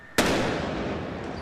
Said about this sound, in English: as police attempt to disarm the bombs, one of the robots cuts the line, causing this explosion